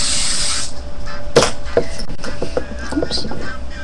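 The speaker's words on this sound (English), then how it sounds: "And then just spray it down." A short burst of hairspray hisses at the start, followed by soft handling noises and faint rustles of hair.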